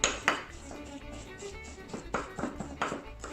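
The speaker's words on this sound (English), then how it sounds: "What you're trying to do is you're trying to mix the suet into all the dry" Suet being mixed by hand into dry ingredients in a bowl for traditional pemmican, giving irregular scraping and knocking against the bowl with a few sharper clinks, close and moderately quiet.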